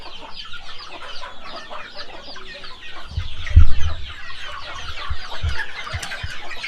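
Young native chickens clucking in a crowded group, low soft clucks and rustling continuing throughout, a bit louder near the middle, with no talk.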